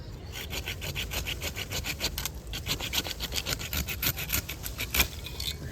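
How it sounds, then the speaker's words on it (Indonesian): A hand saw cuts through the trunk of a banyan (beringin iprik) bonsai in quick, rhythmic back-and-forth strokes, close and raspy, with a brief pause partway through. "gergaji untuk memotong beringin iprik"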